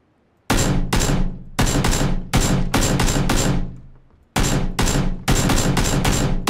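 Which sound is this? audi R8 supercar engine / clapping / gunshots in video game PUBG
gunshots in video game PUBG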